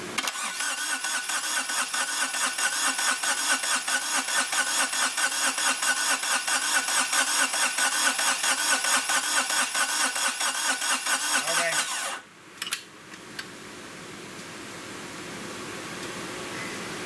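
A Kubota diesel engine swapped into a Geo Metro cranks with glow plugs, a loud close rhythmic churning of the starter for about twelve seconds that then cuts off abruptly, leaving a quieter hum.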